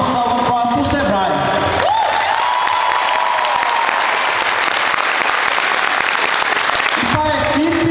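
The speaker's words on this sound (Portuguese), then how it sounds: "Eu queria uma salva de palmas para o Sebrae." Sustained applause from an audience at a community gathering in Brazil, a loud steady wash of clapping with a few cheers, with talk before it and again at the end.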